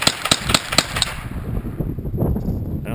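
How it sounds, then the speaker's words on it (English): A semi-automatic .22 LR rifle is emptied rapidly, fired one-handed outdoors in snow, with five sharp, evenly spaced cracks in quick succession, followed by a rumbling, noisy tail. "Semi-auto 22, mag dump, and this is only a 22"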